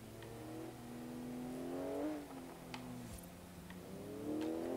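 A Porsche engine in Forza Horizon 3 revs up steadily, its pitch climbing, dropping briefly at a gear change, then rising again, loud and close with no talk over it.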